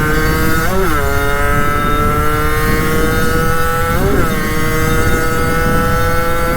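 A 50cc geared moped engine buzzes loud and continuous, with two quick throttle blips as it downshifts through the gears, then it settles back to a steady high drone.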